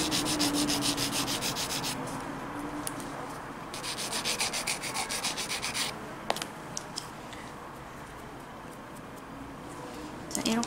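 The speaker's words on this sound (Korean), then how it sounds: "심한 것만 저는 지금 갈고 있어요." Hand sanding of a surface with magic film abrasive, close-up rhythmic rubbing strokes in bursts with short pauses and a few light taps.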